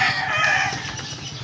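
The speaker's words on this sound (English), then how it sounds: "Damn, chicken. Don't start no stuff." A chicken squawks and clucks loudly nearby in a quick, agitated burst, with noisy fluttering texture that fades toward the end.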